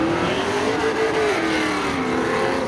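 Drag racing cars, among them a 1964 Chevy Chevelle, launch at a spectator drag night at Seekonk Speedway, sending up a steady, loud engine roar that rises in pitch as they accelerate away.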